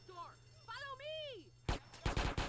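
Gunfire in the video game GTA San Andreas: a rapid burst of several loud, sharp shots near the end, after a stretch of whooshing, warbling game sounds.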